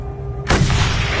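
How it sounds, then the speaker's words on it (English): One loud, abrupt gunshot in the Mad Max video game cuts through a low, steady hum and leaves a short booming tail. "Shots up ahead."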